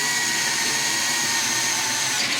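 A power drill whirs steadily at high speed drilling wood for a stick chair, a constant loud whine with no pauses.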